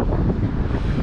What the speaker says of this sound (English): it's pretty windy right now. We got these Santa Ana winds coming in pretty crazy right now